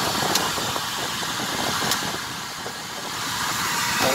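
The blower fan motor inside an inflatable street advertising balloon gives off a steady, close, continuous hum and airy whoosh that holds an even level throughout.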